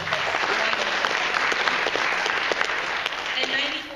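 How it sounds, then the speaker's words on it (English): Audience applause at a presentation for a limb preservation foundation, a steady wash of many hands clapping that carries through the whole stretch at even strength and fades slightly at the end. "And that's their round of applause."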